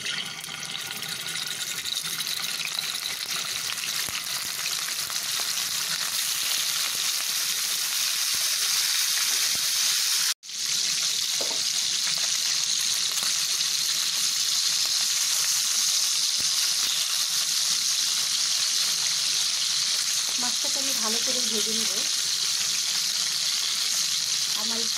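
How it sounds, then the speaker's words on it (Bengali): Hilsa fish seasoned only with salt deep-frying in hot oil, a loud, steady sizzle running without a break apart from one sharp momentary cut, with faint clinks underneath. "আমি ইলিশ মাছে কোনো মশলা দেইনি, শুধু একটু লবণ দিয়েই ভেজে নিব।"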